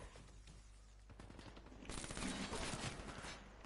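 Rapid automatic gunfire from a Black Ops III match, a dense continuous burst that grows louder and heavier partway through and stays close and sustained.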